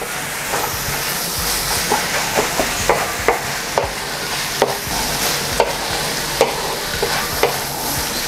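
Ground meat browning in a hot pan for lumpiang ubod spring rolls: a loud, steady sizzle broken by regular spatula taps and scrapes roughly every half second, with no voices.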